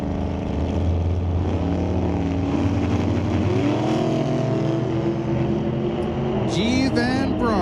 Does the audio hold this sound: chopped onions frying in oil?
no